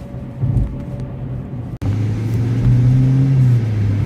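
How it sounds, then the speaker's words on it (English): A 2019 Chevrolet Spark with a small four-cylinder engine driving, a steady close engine drone rising slightly in pitch as it pulls along, with a brief click partway through. "this car is pretty peppy for a little car, for a little 4-cylinder"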